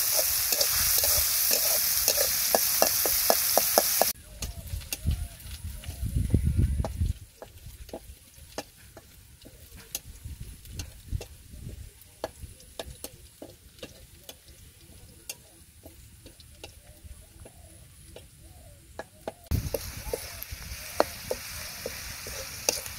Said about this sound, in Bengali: রসুন, পেঁয়াজ রসুন ভালোভাবে ভেজে নিই